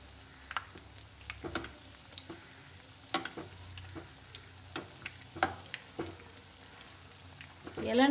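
Tender coconut bonda frying in hot oil, a quiet bubbling sizzle punctuated by irregular crackling pops and a few spatula taps, swelling louder at the end.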